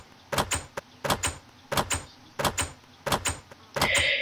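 A wooden door-opening sound effect from Mine-imator animation software: sharp wooden knocks and clatters repeat in a steady pattern, close and distinct, ending in a brief hiss.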